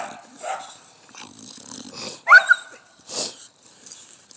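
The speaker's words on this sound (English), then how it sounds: "I don't like dogs jumping on me." A dog growls and breathes heavily near a kennel while it is being cleaned, low rumbling growls and wheezy breaths in short bursts with quiet gaps, close by.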